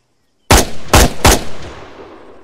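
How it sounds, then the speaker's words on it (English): Three loud, close shots ring out from a UK-59 machine gun in the video game ARMA 3, evenly spaced, each with a short echoing tail. "UK-59 machine gun."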